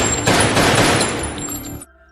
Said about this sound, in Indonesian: Namun Max yang tidak mau ada waktu tambahan, ia pun menembak beberapa sandera di ruangan bawah.